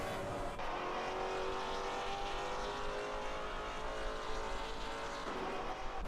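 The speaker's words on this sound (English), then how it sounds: "I think Maserati V8s are the best sounding engine in the world." A Maserati V8 GT4 race car in Assetto Corsa Competizione, its engine holding a loud, sustained roar with a slight pitch drop and rise midway, no voices over it.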